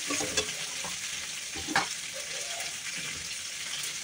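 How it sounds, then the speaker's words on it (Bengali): Vegetables sautéing in a pan with salt and turmeric for a Bengali hilsa fish curry, giving a steady soft sizzle with a few brief stirring clatters, close and fairly quiet, with no talking. "তো চলো সবজিটা সাঁতলে নিই।"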